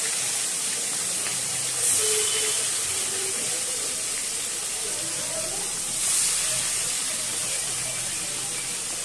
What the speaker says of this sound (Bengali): মাছগুলো হালকা করে ভেজে নিলাম